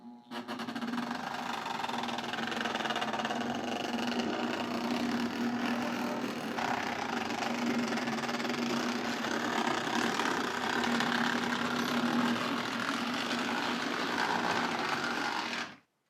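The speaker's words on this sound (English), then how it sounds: "she is a very cranky sounding locomotive" A Lionel GG1 model train locomotive motor runs steadily with a constant whirring hum and a buzzy mechanical rattle, close and even for the whole stretch before cutting off.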